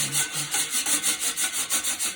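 A whisk scrapes rhythmically across the bottom of a pot-roast pan during deglazing, producing about ten steady, close, rasping strokes with no talking.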